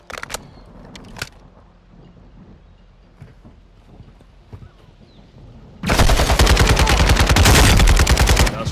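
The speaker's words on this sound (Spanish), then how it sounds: "Tiros en la azotea, cúbreme." Gunfire on a rooftop in Call of Duty Modern Warfare 2: a few sharp isolated shots over quiet ambience, then a long, loud burst of sustained automatic fire near the end.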